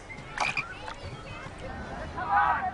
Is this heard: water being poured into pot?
no